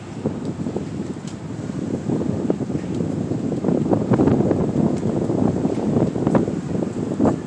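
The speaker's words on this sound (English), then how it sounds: "Wow, man. This wind." Outdoor wind buffets the microphone in a steady, rumbling roar that swells and gusts continuously, with soft rustling texture and no voices.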